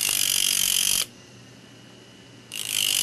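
A stonesetting bur being sharpened against metal makes a loud, close, high grinding whine that runs for about a second, stops briefly, then resumes.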